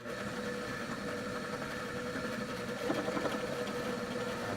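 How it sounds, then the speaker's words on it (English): A steady, even mechanical whir of a drill press motor running a center drill through a forged full-tang knife blank, continuous at moderate volume, with a slight rattle partway through. "And I'll move on to using a larger center drill."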